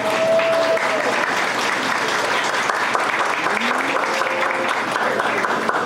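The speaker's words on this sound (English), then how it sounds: "And we can give them a round of applause." Graduates at a high school class of 2021 commencement ceremony receive loud, sustained applause from the audience, a dense unbroken clapping with a few faint whistles and cheers across it.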